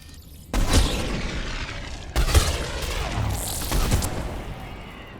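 Missile explosions in a sci-fi shooter video game: two loud booming blasts about a second and a half apart, each with a rumbling tail, then a smaller burst shortly after.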